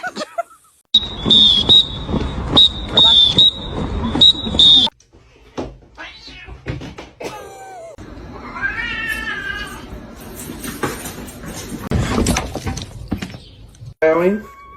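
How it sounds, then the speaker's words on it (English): A cat meows and caterwauls in several loud, wavering calls, some repeated in a short burst and others drawn out, with gaps and other noises between them. "Meowing."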